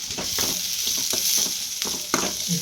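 Chopped onions and green chillies fry in hot oil, giving a steady, close sizzle broken by repeated scraping stirs, with no talking.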